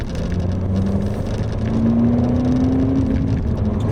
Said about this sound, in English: It still has that noise when you get on the throttle, because this car has basically the same exhaust as the SI.